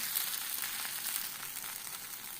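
Cabbage fritters fry in a pan of hot oil, giving a loud, dense, continuous sizzle close by with no voices.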